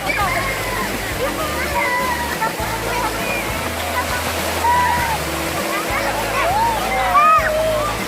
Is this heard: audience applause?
no